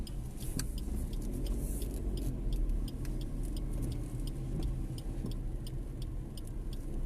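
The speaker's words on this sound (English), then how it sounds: "I'm going to drive slowly through the parking lot." A car rolling slowly through a full parking lot at a lifestyle center on a cold day, a steady low engine and road rumble heard from inside with a faint regular ticking.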